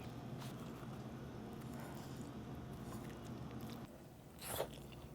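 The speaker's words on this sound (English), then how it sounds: "I just chew a little bit of kimchi" Kimchi dumplings, king-size and filled with kimchi, being chewed up close: soft, steady mastication with faint wet squishes and a brief louder crunch near the end, no talking.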